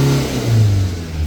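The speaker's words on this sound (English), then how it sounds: "The revs go all the way up." A van engine, an LDV V80 Maxus after DPF cleaning, revs up steadily, its low droning pitch climbing and holding high, loud and close with no voices.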